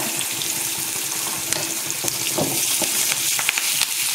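Garlic and curry leaves sauté in a pan for Thatta payaru kulambu, a continuous crackling sizzle with scattered pops and stirring scrapes, close and moderately loud.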